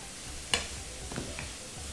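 Masala with tomatoes and arbi sautéing in a pan: a single sharp clink of a spoon on the pan, then a faint, soft sizzle with light stirring, fairly quiet and brief, with no talk.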